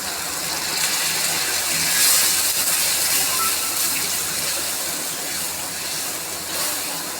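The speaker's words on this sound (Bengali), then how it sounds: "সামান্য একটু পানি দিয়ে দিচ্ছি।" A little water goes into a pan of onion paste being cooked down for fish curry, producing a loud, steady hissing rush that swells briefly and then holds at a constant level.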